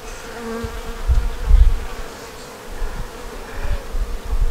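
Bees buzz steadily around an open beehive during a colony inspection, a dense, continuous close-up hum with swelling and fading wingbeats and no voices.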